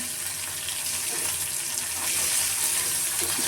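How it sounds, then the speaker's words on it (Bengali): Dried chapa shutki fish, with onion in oil, sizzles and hisses loud and close in a pan, a steady unbroken frying noise throughout. "তেলের মধ্যে যে শুটকি দিয়ে দিলাম"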